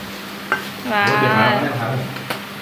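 Fish curry stirred in a hot pan under a steady sizzle, with a couple of sharp utensil knocks and a brief hummed voice tone in the middle.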